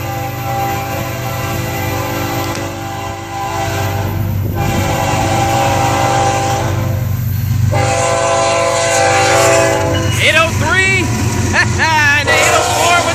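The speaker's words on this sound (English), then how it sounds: "Love that horn, man. It's just, there's a lot of grunge to it." An FEC freight train led by GE GEVO locomotives rumbles past loudly, its engines and wheels droning steadily before the gritty, multi-tone horn blasts near the end, with some talking in the background.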